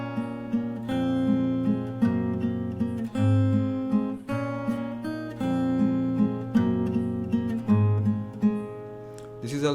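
Fingerstyle guitar plays the ending chorus of a song, steady plucked bass notes under repeating melodic figures, close and clear, with no talking.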